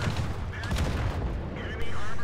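Tank cannon fire in World of Tanks on a snowy Himmelsdorf city map, a heavy boom with battle noise, spoken commentary running over the top and a louder blast near the end.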